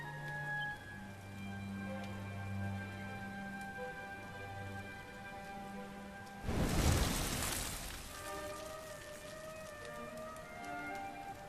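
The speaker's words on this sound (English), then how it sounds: "Looks like the rain's dying down." Rain falls in the Dragon Quest XI S video game, a soft steady patter under sustained musical tones, with a brief louder rushing burst partway through.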